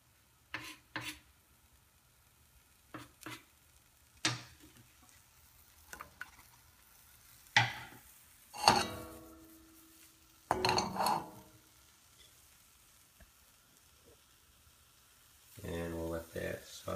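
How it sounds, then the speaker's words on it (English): Chopped onion sautés in melted butter in a hot pan on a new range, a soft sizzle broken by scattered scrapes and clacks of a utensil stirring, with a louder burst of frying near the end. "we'll let that saute for probably 2-3 minutes"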